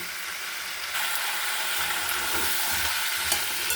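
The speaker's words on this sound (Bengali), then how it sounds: "এবার আলুটাও একসাথে কষিয়ে নেব" Potatoes and chicken stir-fried together in a pan, with a steady close sizzle that grows louder about a second in and soft scraping stirs under it, no voices.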